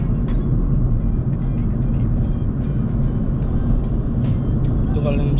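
A Mercedes-Benz A250 Sport AMG hatchback engine hums and rumbles steadily from inside the cabin while accelerating, with road noise throughout and a few faint clicks and squeaks.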